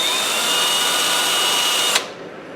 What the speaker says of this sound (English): drill with a cheap brass wire brush and just giving it, that has to be tight, a little bit of a polish